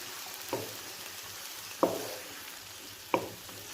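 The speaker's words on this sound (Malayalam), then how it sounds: "ഇനി ഇതെല്ലാം കൂടെ ചേർത്തിട്ട് ഒന്ന് ഇളക്കി കൊടുക്കാം" A pan of green pea and egg masala sizzling softly, broken by three sharp spatula knocks against the pan spaced about a second and a half apart, close but quiet and with no voices.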